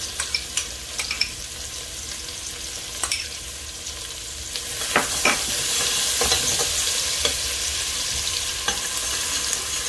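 Finely diced onion and two chopped garlic cloves fry in a pot, the sizzle swelling louder midway as a utensil scrapes and taps against the bottom now and then; no one speaks.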